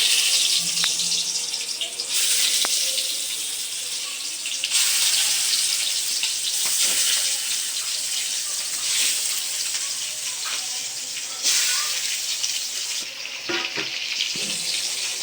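Fish pieces fry in hot oil in a wok, producing a loud, dense, hissing sizzle that stays strong throughout, rising in bursts as the pieces go in, close and without talking.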